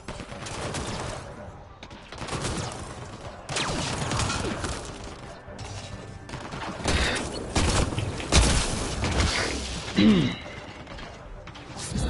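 Bursts of gunfire in Mass Effect: Andromeda come in uneven waves among mechanical clanks and booms, with a voice heard briefly among the shots.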